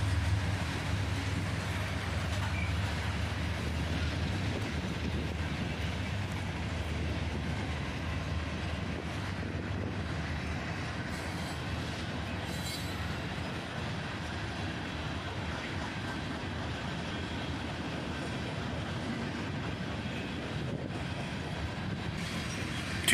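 Two CSX freight trains pass each other on parallel tracks, a long steady rumble of rolling wagons heard from trackside at moderate distance, with faint wheel clatter and squeal throughout.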